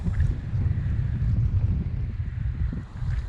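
Strong, gusty wind sweeps across open water on a cold early-spring bass fishing outing, a steady low roar with buffeting on the microphone and no voices.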